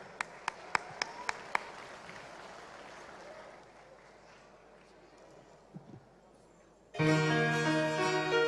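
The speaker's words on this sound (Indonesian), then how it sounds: "Tepukan para hadirin sekalian." Scattered claps, then a faint wash of audience applause at a state-level Kaamatan harvest festival closing ceremony in Sabah, 2022, fading low before loud amplified music suddenly starts.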